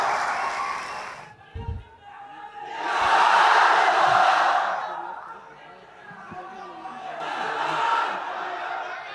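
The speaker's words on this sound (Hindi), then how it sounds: "एक बार फिर से जोरदार तालियों से स्वागत करिए" A studio audience at a televised Hindi interview breaks into bursts of applause and cheering, swelling loudly in two waves with a brief low thump between, crowd noise filling the room.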